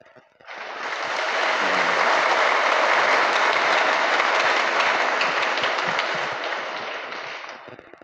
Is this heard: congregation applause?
yes